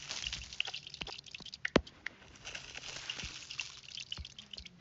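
Rain in the video game WorldBox, a soft, faint patter and trickle of falling water with scattered sharper drips over a quiet background, no speech.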